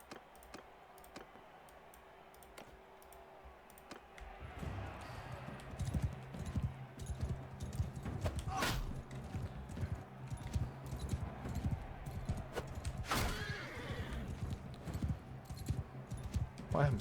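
Horse hooves clatter during a mounted sword duel in the Mount & Blade 2 Bannerlord arena, a quick rhythmic clip-clop that starts a few seconds in and continues under game clashes and keyboard clicking, with someone talking over it.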